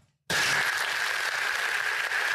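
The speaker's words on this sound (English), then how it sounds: "so a round of applause" Canned applause effect dropped into a podcast: a dense burst of many hands clapping cuts in abruptly after a brief silence and holds steady and loud to the end, with no talking over it.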